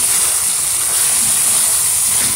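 Tomatoes hit a hot pan for a restaurant-style bottle gourd and chicken curry, giving a steady, close, unbroken sizzling hiss with no talk.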